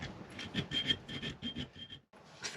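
A hand file rasps across a small, hard metal bracket for a mountain bike mudguard, giving about a dozen quick, close scraping strokes that stop briefly near the end.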